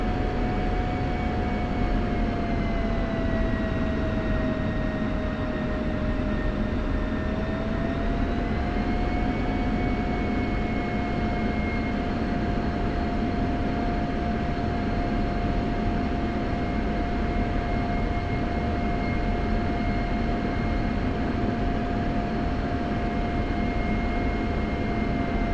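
An F-16 taxis in the DCS World flight simulator, its jet engine a loud, continuous whine and roar with a steady tone that dips briefly then holds, heard alone without talk.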